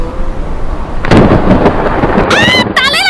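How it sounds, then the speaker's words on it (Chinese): A sharp crack of thunder bursts in and rolls on as a loud rumble, followed by high-pitched shrieking voices near the end. "打雷了，打雷了！"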